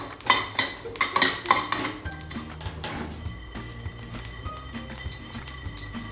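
Masala and spices roast in a pan for samosa filling while a spoon clatters and scrapes against the metal in quick, loud bursts that settle into a softer sizzling stir.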